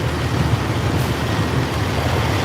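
Trucks rumble nearby at a convoy camp on a snowy day, a loud continuous low engine drone with traffic noise and no break.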